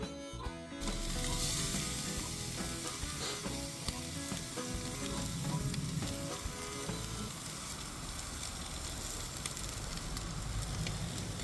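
Steaks sizzle loudly on a grill, a dense, continuous hiss up close with a few faint knocks, and no one talking.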